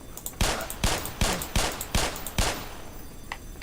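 Gunfire in a video game: six loud, evenly spaced shots ring out close and clear, each with a short tail, then a faint click or two as the firing stops.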